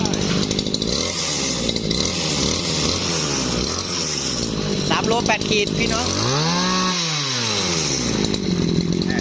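A used Japanese Makita gasoline brush cutter, 3.8 kilograms, runs loud and close, revving up and down in waves while someone speaks briefly over it.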